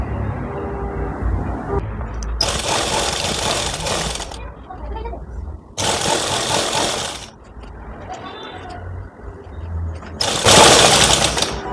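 A sewing machine stitching elastic and a fabric belt for a ready-to-wear saree, three loud bursts of rapid mechanical whirring separated by pauses, close up, with someone talking between and under the runs.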